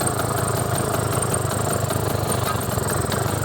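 A 1978 Vespa P200E scooter engine idles steadily at close range with the air filter off. The small two-stroke keeps a loud, even, buzzing chug, with no voices.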